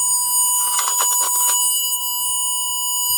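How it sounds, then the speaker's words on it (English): A continuity tester's buzzer sounds as its probe touches a shorted wire during brake-sensor wiring checks on a Toyota Hilux with an ABS fault; a steady, loud electronic tone holds throughout, with a short burst of rattling handling noise partway through. "When I put it onto this, the buzzer should go."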